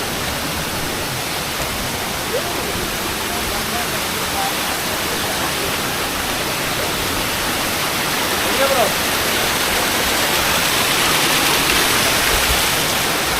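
A waterfall at Sajek, cold water pouring heavily, gives a steady, loud, broad rushing roar that holds without a break throughout.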